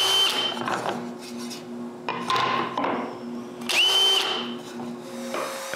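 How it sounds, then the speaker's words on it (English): A power drill bores holes in the wooden handles of hand-made bellows, whirring in several short bursts that spin up and wind down, close by, with pauses between each hole. "I need to drill some holes on the handles"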